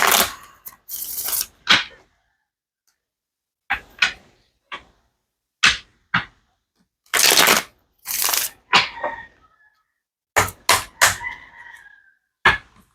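Cards from a Stained Glass Tarot deck are shuffled in short crisp bursts of riffling and snapping, several separate clusters with quiet pauses between, close and fairly loud with no talking.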